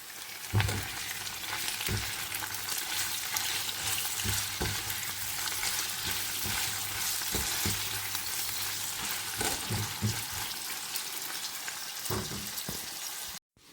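Shrimp frying in a pan with onion, garlic and ginger gives a steady, close sizzle, with repeated soft knocks and scrapes of stirring throughout. The frying sound plays alone without talk.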